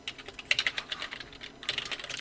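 Text is typed on a computer keyboard while working in Adobe Photoshop, a quiet, rapid patter of light keystrokes in uneven clusters with no voices.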